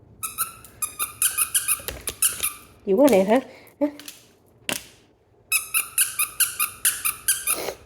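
A squeaky dog toy is squeezed in quick bursts of sharp, high squeaks, loud and close, with a dog whining briefly in the middle while someone talks over it.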